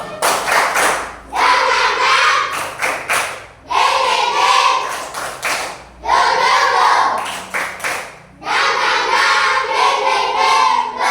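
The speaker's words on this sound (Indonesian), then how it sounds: "Tepuk tangan baru." A class of children in a classroom claps together in four rhythmic bursts separated by short pauses, with voices calling out along with the clapping.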